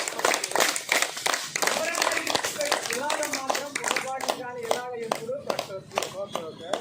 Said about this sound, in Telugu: చప్పట్లు అనేది ఏంటంటే ఇలాగే కొట్టాలి